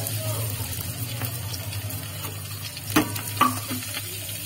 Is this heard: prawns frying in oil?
yes